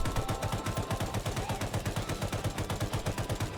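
Rapid rifle gunfire in the video game Rust, a steady stream of evenly spaced shots fired in quick succession, loud and close with no pauses across the burst.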